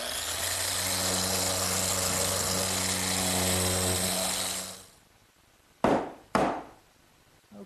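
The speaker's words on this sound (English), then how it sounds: "now I can't forget the sanding" A power sander on wood drones steadily for several seconds, then winds down and stops, followed by two sharp, brief bursts of noise.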